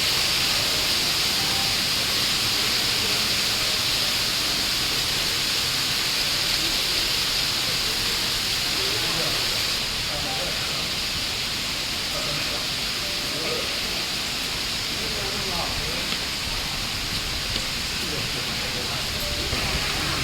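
Waterfall at a tulip garden in Rayong, Thailand, producing a steady, broad rushing wash of falling water that runs continuously and fairly loud throughout, with no speech over it.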